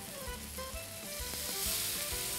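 Tomato and a splash of water sizzle steadily in a hot pan while cooking pizzaiolo-style, a continuous close frying hiss with faint soft clinks and low thumps underneath, no voices.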